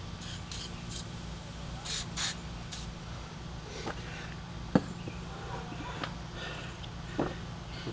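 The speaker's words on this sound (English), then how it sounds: "Got a little bit of penetrating fluid here. We're going to spray these guys right there." Penetrating fluid sprayed onto stuck brake cylinder parts in short close hissing bursts, followed by faint metallic taps and small handling clicks.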